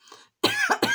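A single close cough, then throat clearing, a brief throaty burst after a faint breathy sound.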